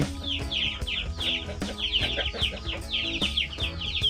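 Chickens clucking on a small family farm, a dense, steady stream of overlapping clucks and short calls from several birds close by, with no talk.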